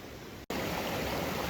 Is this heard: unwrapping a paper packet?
no